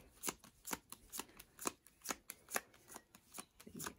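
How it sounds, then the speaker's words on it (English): A deck of playing cards flicked through by hand, a quick series of crisp, close riffling snaps in an uneven rhythm, quiet and with no talk. "So you flick all the way through."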